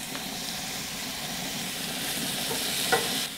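Bacon and sausages sizzle steadily on a griddle plancha, a dense continuous hiss and crackle with a few brief sharper pops near the end, with no talk.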